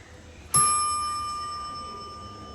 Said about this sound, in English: I want to go outside and sample the chime because I love that bell.